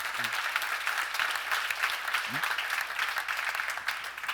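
A church congregation clapping together, sustained dense applause filling the room from start to finish, with a couple of faint voices briefly audible underneath.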